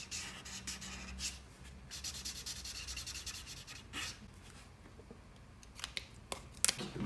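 A Pro Marker in blue-grey is rubbed across paper in soft, continuous close scratchy strokes, with a few sharper taps and clicks toward the end, no voices.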